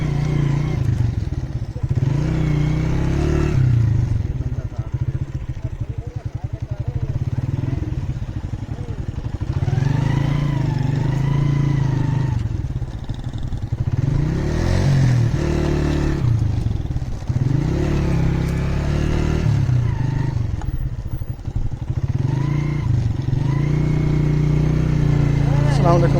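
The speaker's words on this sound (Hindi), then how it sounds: "आगे बाइक लेके चलें।" Motorcycle riding along the flooded Sutlej riverbank, its engine droning steadily and close throughout with clattering and rises in revs, while people talk over it.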